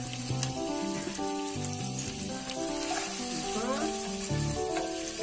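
Garlic and onion fry in a pan with a steady, close sizzle that runs the whole time beneath prominent background music.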